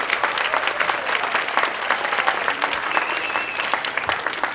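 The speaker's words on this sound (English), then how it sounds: "So let's give one more round of applause to our stallion band, Mrs. Okanapor." An audience at a school spring band concert claps in dense, sustained applause with no pauses. The crowd sounds full and steady, heard from within the room.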